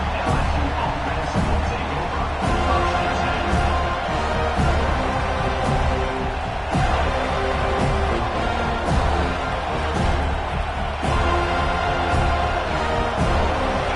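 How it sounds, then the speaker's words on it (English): Football stadium crowd roaring in a steady, dense wall of noise throughout, loud and continuous with rising swells of cheering and babble, no clear individual voices standing out. "This crowd ready to make its presence known."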